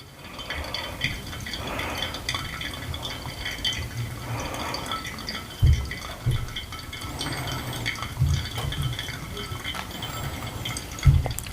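Water pours steadily onto ground coffee for a pour-over brew of Little Wolf Coffee from Brazil, a continuous close trickle and splash with a few louder drips and bumps, no talk over it.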